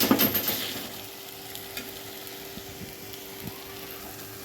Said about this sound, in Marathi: आता हे एकत्र करून घेऊया।